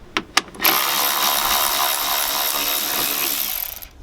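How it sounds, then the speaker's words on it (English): A power tool removes 10mm bolts on a 2020 Nissan Altima during an oil change: two sharp clicks, then a steady, loud whirring run lasting about three seconds. "Now we just have 2 10mm bolts to remove."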